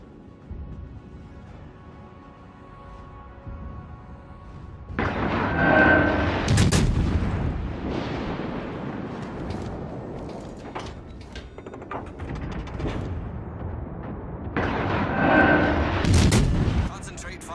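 Heavy warship guns in World of Warships Legends boom in loud bursts around the 5–7 and 14–17 second marks, with rumbling gunfire and mechanical clatter between salvos over a quieter opening hum.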